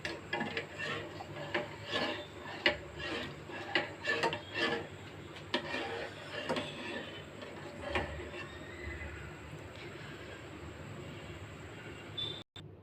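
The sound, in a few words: stirring milk with spiced garam masala in a pot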